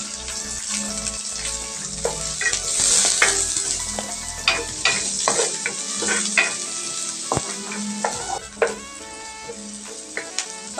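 Chopped onion with garlic sautés in a pan, a loud continuous sizzle with frequent clacking spatula stirs and scrapes, heard up close and without voices.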